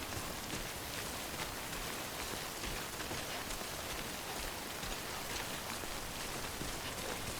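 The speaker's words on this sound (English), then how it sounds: "all right, the rain is here." Steady, dense rain falls in the Death Stranding video game, a continuous broadband patter with no breaks and no voices.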